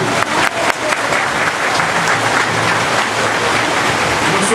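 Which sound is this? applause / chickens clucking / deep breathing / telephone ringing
applause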